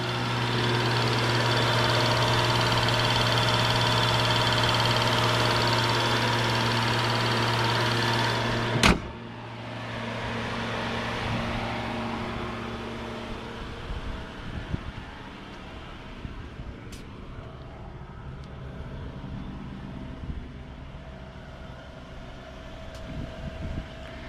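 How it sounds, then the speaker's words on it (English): Rolls-Royce Phantom engine idling, with a steady low hum and a fan-like hiss that drops after a sharp click near the middle, leaving a quieter idle with faint small knocks. "I'll let you hear the engine run for a moment"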